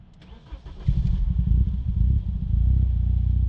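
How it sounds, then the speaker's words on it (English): A BMW E30 M3 with an upgraded exhaust and upgraded cams cranks briefly and fires into a deep, throaty idle that holds steady and loud, close by. "there's nothing left to do now but start it up"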